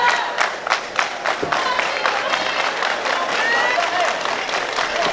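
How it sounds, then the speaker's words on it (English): Wrestling crowd at a CCW Chaos event cheering, clapping and shouting steadily to rally wrestler Sarah against Nikki Lane, a dense close roar with claps and whistles. "Crowd trying to rally Sarah back into this"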